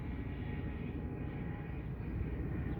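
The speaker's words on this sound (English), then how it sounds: "Look at all these planes." Airplanes flying overhead near a school, heard as a steady, continuous broadband engine roar that holds at an even level throughout with no talk.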